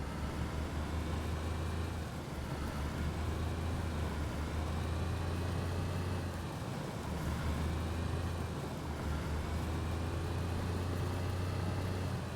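A car engine running steadily in DayZ, a constant low drone with road noise, held at an even level for the whole stretch with no talk over it.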